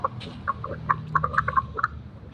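A Minecraft frog croaks in a quick series of short, bubbly calls, repeated in irregular bursts at close range over a faint low hum.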